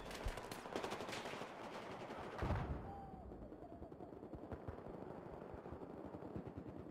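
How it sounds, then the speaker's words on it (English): Gunfire in a first-person shooter match, dense rapid bursts of automatic fire that are loud at first, then continue as a quieter, steady crackle of shots. "What the hell is shooting me?"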